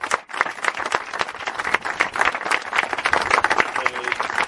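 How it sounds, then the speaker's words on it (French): An audience at a gathering honoring the French national swimming team applauds, with crisp, dense hand claps rattling on steadily for a few seconds, close and moderately loud. "Vous pouvez l'applaudir"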